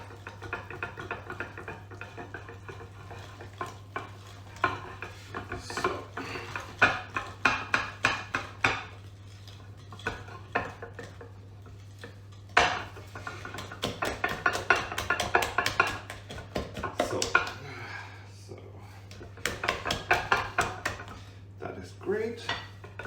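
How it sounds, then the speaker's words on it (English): Blueberry buttermilk muffin batter being mixed in a bowl, wet and dry ingredients stirred together, heard as a steady run of clinking, scraping utensil-on-bowl knocks in irregular bursts over a constant low hum, close and fairly loud. "quickly start mixing our dry and our wet ingredients"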